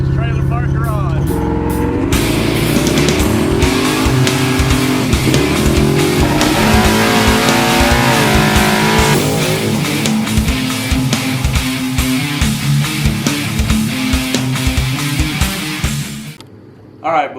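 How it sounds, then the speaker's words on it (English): A loud hot rod engine fired up and revved hard, its roar rising and falling through repeated throttle blips with a rough, rowdy tone, then cutting off abruptly near the end, with someone talking over it. "we do get the hot rod fired up, and it's pretty gosh dang rowdy"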